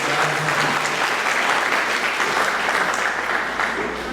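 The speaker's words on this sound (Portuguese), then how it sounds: "Vamos aplaudir essas mães maravilhosas?" A church congregation applauds during a sermon celebrating mothers, dense sustained clapping from many hands filling the room at full volume for the whole stretch.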